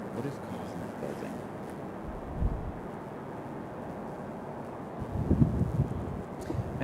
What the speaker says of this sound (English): As you guys can hear, it is a windy afternoon already.